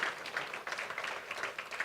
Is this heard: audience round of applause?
yes